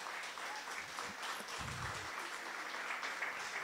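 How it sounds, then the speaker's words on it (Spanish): Church congregation applauding together during a Spanish-language sermon, a steady dense wash of clapping lasting throughout at moderate, even loudness with a brief low rumble in the middle. "Fuerte ese aplauso."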